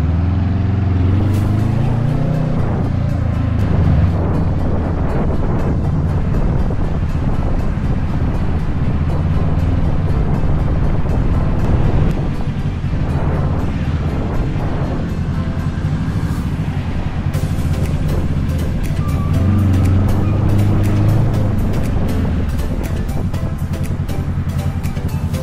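Road traffic near Baguio on parade day, with cars and buses heard from inside a moving vehicle as a constant low engine and road rumble and passing whooshes, steady and loud throughout, with no talking.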